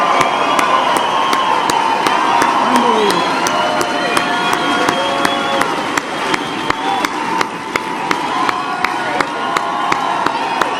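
A large crowd at a political rally in Pueblo, Colorado cheers and applauds, a loud, continuous roar of voices and clapping with sharp, regularly spaced claps or thumps cutting through, all held at full intensity for over ten seconds.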